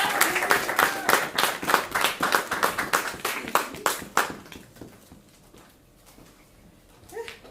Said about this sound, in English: Keep clapping as it comes up.